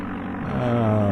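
Steady aircraft engine drone in the Amiga game Flight Simulator II, a low continuous hum with a tonal whine that rises slightly in pitch and loudness partway through as the throttle increases.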